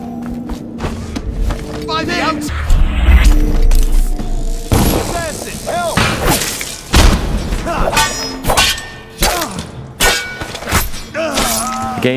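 In the Dishonored video game, a spring razor trap goes off and kills guards, giving several heavy thuds and sharp shattering bursts among scattered combat noises, with someone talking over much of it.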